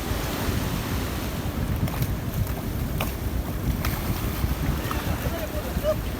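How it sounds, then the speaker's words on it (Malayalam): A speed boat motor drones low and steady on open sea in the Maldives, with rushing water and wind buffeting the microphone throughout. "സ്പീഡ് ബോട്ട് ഓടാക്കാനുള്ള കോമഡിയൊക്കെ കാണുന്നത് കേട്ടോ."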